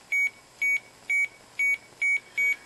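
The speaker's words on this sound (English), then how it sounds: "So this would be a beep." A string of six identical electronic keypad beeps, evenly spaced and fairly loud, each a short steady high-pitched tone with nothing else around it.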